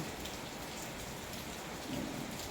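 Heavy rain pouring in General Santos, a dense, steady hiss of drops hitting surfaces with a faint low rumble beneath, continuous and enveloping.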